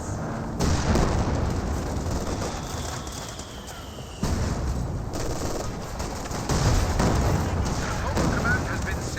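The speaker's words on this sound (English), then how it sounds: "White phosphorus rounds raining on in, perhaps from the mortar half track." White phosphorus mortar rounds explode in the Company of Heroes video game. Several heavy, rumbling blasts land one after another over a dense, continuous battle din.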